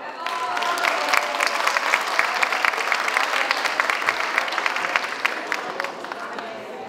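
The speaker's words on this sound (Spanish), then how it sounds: "dejamos con un fuerte y cariñoso aplauso al Ballet Folclórico de Profesores y Asistentes de la Educación Municipal" An audience at a Teachers' Day event claps for a teachers' and education assistants' folk ballet troupe, with strong, dense applause that swells, holds steady, then eases slightly toward the end.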